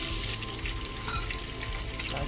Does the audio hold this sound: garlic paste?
yes